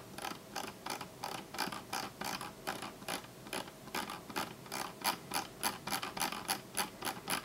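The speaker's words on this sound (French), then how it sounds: "la molette de la Master 2S. Que voici, qui là pour le coup s'entend vraiment beaucoup en mode cranté" The Logitech MX Master 2S scroll wheel clicks in ratchet mode, giving quick, close bursts of plastic detent ticks in an uneven rhythm, quiet and without speech.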